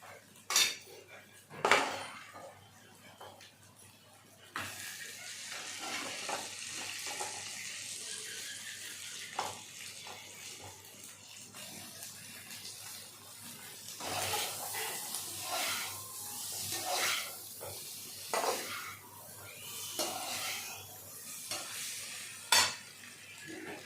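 Chicken fries in a pan for chicken fried rice, with a soft sizzle under repeated clanks and scrapes of a spatula stirring against the metal, loud and close in bursts.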